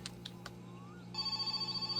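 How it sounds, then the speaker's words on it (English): A telephone in the video game My Summer Car starts to ring, a steady electronic warbling tone entering partway through after a few short clicks, fairly clear over a low background hum. "We gotta get the phone."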